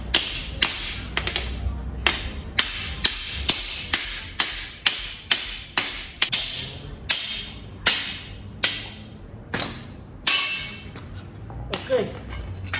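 A hammer knocks a shackle off a vehicle's leaf spring with repeated sharp metallic blows, some in quick pairs and others spaced apart, ringing close and loud while a voice speaks intermittently between strikes.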